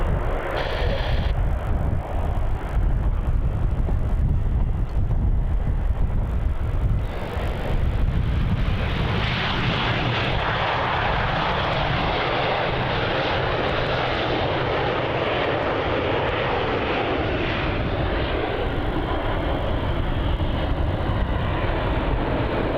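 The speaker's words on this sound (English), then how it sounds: "here's that 737 from Brisbane coming in now on runway 34, just about to cross past the Garuda 330" A Boeing 737 jet airliner arriving from Brisbane lands on runway 34 at Melbourne Airport, a loud, continuous engine roar and rushing whine that swells, then settles into a broad steady rumble as it rolls out, heard from nearby.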